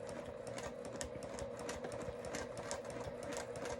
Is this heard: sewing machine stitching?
yes